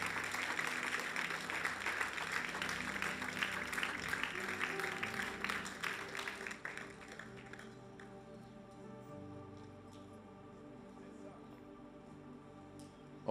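Church congregation applauding during a worship service, loud dense clapping for about six seconds before fading into quieter room noise and scattered sounds.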